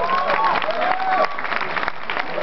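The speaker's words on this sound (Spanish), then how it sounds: "Un aplauso fuerte para todos ustedes." An audience at a Mexican campus film festival finale applauds loudly, a dense continuous wash of clapping with some cheering and crowd voices throughout.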